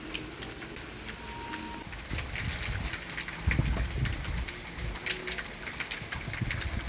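Steady rain falls through a stormy night, a continuous hiss of drops with some heavier patter on nearby surfaces, moderately loud and with no voices over it.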